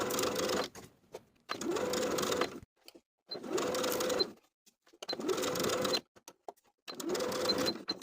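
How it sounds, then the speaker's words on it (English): A sewing machine stitches a cuff onto a gathered blouse sleeve with a 3/8 inch seam allowance, running in five separate bursts of rapid mechanical whirring with brief silent pauses between them. "you can sew all the way around with a 3/8 inch seam allowance."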